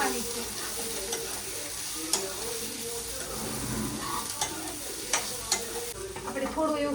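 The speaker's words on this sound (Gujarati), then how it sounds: "હવે આપણે ટમેટા એડ કરી દઈશું. એને થોડીક વાર સાંતળવાના છે" Onion and tomato sauté in a pan, giving a steady soft sizzle broken by occasional clinks and scrapes of stirring.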